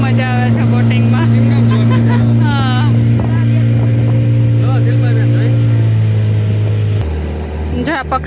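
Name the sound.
motorboat engine during boating ride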